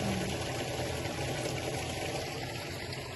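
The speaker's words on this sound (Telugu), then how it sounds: "ఇదిగోండి ఇది మోటార్" A farm water pump motor runs while water fills drums, making a continuous, even rushing hum throughout with no pauses.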